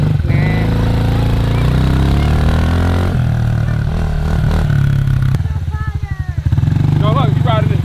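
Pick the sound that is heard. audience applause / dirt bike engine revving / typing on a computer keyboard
dirt bike engine revving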